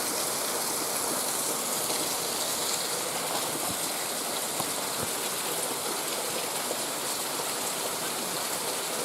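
Heavy rainstorm on the Appalachian Trail, a dense, steady roar of rainfall hitting the ground and foliage, constant and unbroken throughout.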